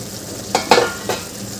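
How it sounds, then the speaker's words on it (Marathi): Fried okra drops into a simmering masala gravy with two or three brief sizzling splashes and stirring sounds over a steady low bubbling, close by and without speech. "आता यामध्ये आपल्याला फ्राय केलेली भेंडी घालून घ्यायची आहे"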